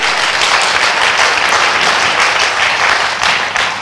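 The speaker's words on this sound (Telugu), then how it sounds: "గట్టిగా చప్పట్లు కొడతాం పిరమిడ్ మెడిటేషన్ ఛానల్కి." An audience claps loudly and continuously at an outdoor vegetarian rally event in Srikakulam, a dense, sustained wash of applause with no pause.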